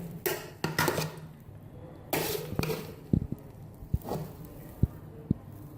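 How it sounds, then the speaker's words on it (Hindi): Cooked Hyderabadi chicken biryani rice being mixed and dished out, with scattered clinks and scrapes of a spoon against a pot, a few sharp knocks standing out among softer rustling. "इसको मैं अच्छे से मिक्स करूंगी और फिर हम इसको डिश आउट कर लेंगे।"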